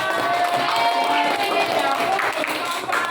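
Group applause in a classroom, a dense patter of clapping from many students mixed with chatter and voices, steady and fairly loud for about three seconds.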